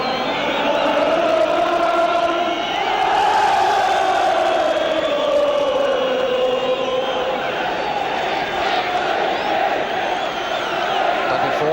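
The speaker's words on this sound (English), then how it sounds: "The Norwich crowd giving us another version of On the Ball City." A large Norwich City football crowd sings the club anthem On the Ball City at a 1973 League Cup match against Tottenham Hotspur, a loud sustained massed chant filling the stadium continuously.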